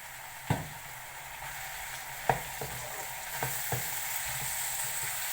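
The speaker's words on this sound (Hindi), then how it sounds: "अब इसमें शामिल करेंगे हम टमाटर" Spices frying in a pan as tomatoes go in for Pakistani aloo bhujia with kasuri methi, a steady soft sizzle broken by a few sharp clacks of a spoon against the pan.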